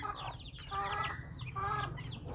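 Chicks feeding on fresh forage greens in a free-range flock give off soft, continuous clucking and chirping, with a low background rumble.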